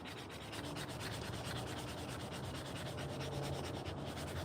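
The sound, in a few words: sanding a wooden spoon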